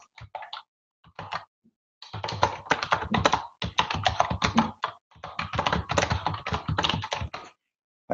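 Folder name being typed on a computer keyboard: bursts of quick, close keystrokes in clusters with short pauses between them, no voices.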